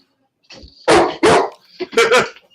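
A dog barks loudly several times, two sharp barks followed by a quicker pair, close by with short pauses between.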